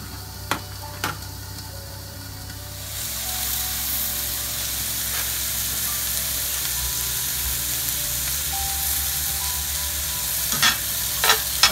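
Onions, carrots and steak fry steadily in a covered pan over medium heat, a loud continuous sizzle with occasional sharp clicks and scrapes of stirring, no voices.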